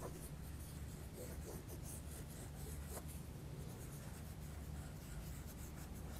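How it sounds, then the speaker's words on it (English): Soft, steady scratchy rubbing of an Inktense pencil scribbling back and forth on textured fabric, continuous and close, with no talking. "So I'm just going to keep scribbling around this bit."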